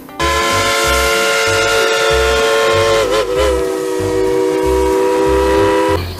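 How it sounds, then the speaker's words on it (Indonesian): A Thomas the Tank Engine toy train's steady whistle tone sounds continuously over a repeating, rhythmic chugging pulse, loud and close, with a slight wobble midway. "Wow, ada kereta Thomas"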